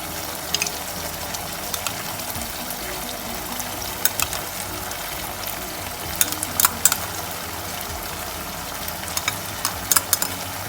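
Masala for mutton chukka frying in oil as curd is stirred in: a steady, bright sizzle runs throughout, broken by scattered sharp crackles and spatters, loud and close, with no voices.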